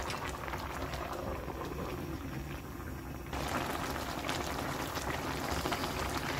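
Radish and half-dried pollock braise in a seasoned sauce, giving a steady, close bubbling and simmering hiss that holds evenly throughout with no talking.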